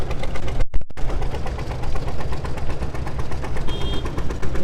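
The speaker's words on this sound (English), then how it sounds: "Followed by a John Deere Model A. Followed by a John Deere Model B." Vintage John Deere Model A and Model B tractors in a New Year's Day parade, their engines chugging with a rapid, steady knocking rhythm, loud and close, broken by a brief dropout near the start.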